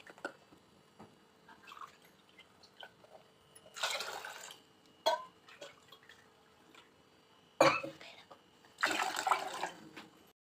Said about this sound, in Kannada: ಅದೇ ಕಪ್ಪಲ್ಲಿ 3 ಕಪ್ಪು ನೀರು ಹಾಕಿ ಸೇರಿಸ್ಕೊಳ್ಳಿ